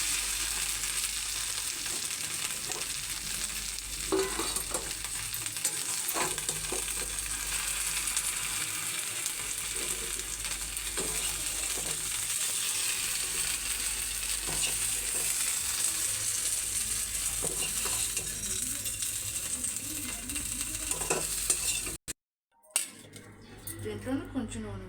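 A steady, dense sizzle of Punjabi-style okra masala curry frying in oil in a pan, with occasional stirring scrapes and a voice talking over it, broken by a brief dropout near the end.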